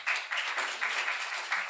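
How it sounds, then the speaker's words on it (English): Audience applause at an education symposium, a brief burst of dense clapping from a room full of people, moderately loud and sustained with slight swells. "So a big round of applause for our 2 members up here."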